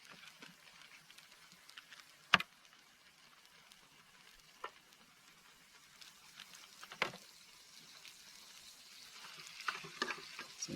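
Precooked ham frying in butter over a camping stove, with a soft, low sizzle close by and a few isolated clicks and light scrapes of a turner now and then; it grows a little busier near the end.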